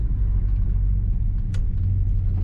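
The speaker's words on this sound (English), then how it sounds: "Today we're driving a 1956 Mercury Montclair." A 1956 Mercury Montclair Phaeton four-door hardtop rumbles along while driving, its engine a steady low drone with road noise throughout and no notable revving.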